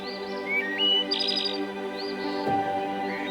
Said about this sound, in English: You hear the birds singing sweet melodies in your ears.